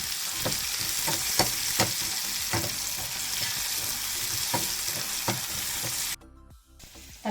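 Okra and tomato sauté in a pan for sambar, a continuous close sizzle punctuated by regular spatula scrapes about every half second, which cut off abruptly near the end.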